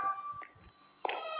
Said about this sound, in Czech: to je blbej zvon nebo siréna